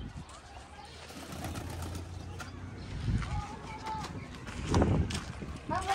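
Pigeons being moved into a new pigeon house give soft coos and wing flutters amid handling noise, with a few brief bird calls rising over steady background rumble.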